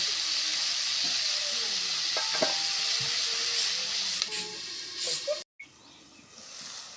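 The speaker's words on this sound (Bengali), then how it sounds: "এভাবে নাড়ে চাড়ে সব মিক্স করে নিলাম" Bitter gourd (karela) fry with plenty of garlic and onion stirred in a pan over low heat, steady sizzle with scraping spatula strokes and brief clinks, a short gap near the end as a lid goes on.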